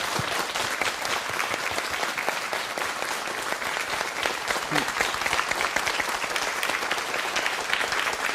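An audience in a lecture hall gives sustained, dense applause to welcome the speaker at a Korean success lecture, a steady wash of many hands clapping at even loudness throughout.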